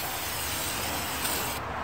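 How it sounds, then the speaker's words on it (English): Starting fluid sprayed into the engine of a 90s Chevy big-block tow truck, a soft, even hiss in one continuous burst that sounds quiet and slightly distant. "You want to spray some starting fluid in there?"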